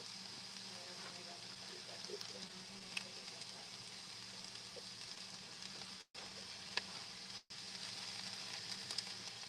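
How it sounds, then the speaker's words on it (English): Onions sizzling in a frying pan, a soft, steady crackling hiss that runs continuously at low volume with a couple of brief dropouts. "I hope everyone can hear the sizzle going on"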